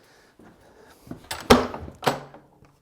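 A utility room door in a workshop creaks and thuds open with a couple of sharp knocks and rattles, close and fairly loud, after a quiet start.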